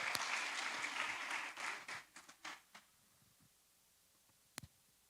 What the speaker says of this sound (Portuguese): Podemos aplaudir ao Senhor, amados.